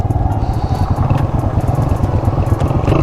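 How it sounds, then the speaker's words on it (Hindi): A motorcycle crossing a river water crossing on a mountain route in Neelum Valley, engine droning loudly and steadily with splashing, rushing water and clatter throughout. "ये वाटर क्रॉसिंग आ गई है।"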